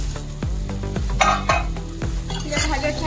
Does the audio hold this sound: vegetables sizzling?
yes